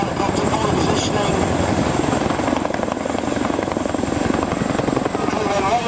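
Helicopters hover during a troop rope drop, with loud, continuous rotor chop and engine whine throughout, up close and dominating the scene.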